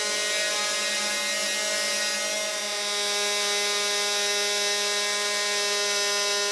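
In a sanding room, a power tool trims a composite part for an AK-X glider, a loud steady high-pitched whine holding an even tone for several seconds with no voices.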